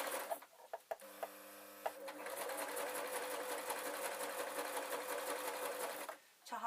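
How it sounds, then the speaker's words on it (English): Sewing machine stitching a zip onto a foam pencil case: a few separate needle taps and a short whirring burst, then a sustained fast mechanical whir for several seconds before it stops, close and fairly quiet. "I'm going to place it in the sewing machine with my zip open, and again I'm going to sew down"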